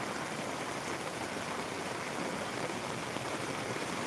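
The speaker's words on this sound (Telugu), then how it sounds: "ఇది మనం మా విలేజ్లో కురుస్తున్న భారీ వర్షాన్ని మీకు చూపించే ప్రయత్నం చేస్తున్నాం" Heavy rain falling in a village makes a dense, steady broadband hiss that fills the whole stretch without pause, with no voices.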